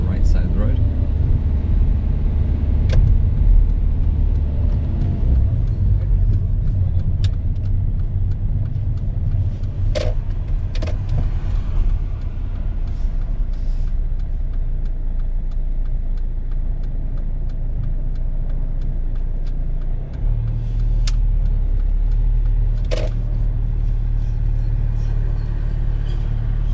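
A learner driver's car pulls over and parks on the right side of a UK road, heard from inside as a steady low engine and road rumble. Faint clicks and knocks sound now and then, and voices talk occasionally over it.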